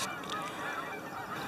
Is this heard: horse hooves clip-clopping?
no